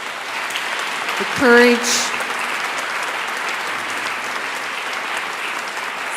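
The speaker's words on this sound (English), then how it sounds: "Let's give them a round of applause." Audience applause at a human trafficking awareness day event, a steady wash of many hands clapping that runs through the whole stretch, with a brief spoken phrase early on.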